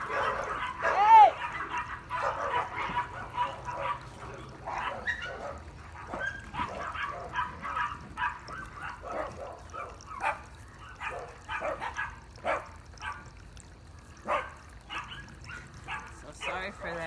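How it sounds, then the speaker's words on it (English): A neighbor's dog barks and yips sharply while attacking another dog, short bursts of barking and whimpers at a middle distance, heard under and between a person's talking. "My neighbor's dog just started attacking another one."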